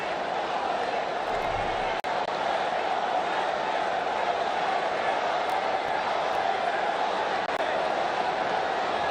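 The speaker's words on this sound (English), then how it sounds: "Outstanding crowd here at this stadium today, and they're very vocal right now" A vocal stadium crowd at an India versus Pakistan Asia Cup cricket final roars steadily in a dense, unbroken wash of noise, loud and sustained throughout with a brief thump near the start.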